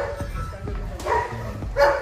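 A working dog searching for something barks a few times, the sharp bursts fairly close and loud, with some background noise between them.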